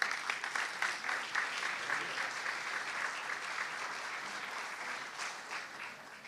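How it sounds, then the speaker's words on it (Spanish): Audience applause at a business conference as a company representative is welcomed to the stage: steady, dense clapping from a crowd sustained for several seconds at moderate level, tapering slightly near the end. "Un aplauso para Juan."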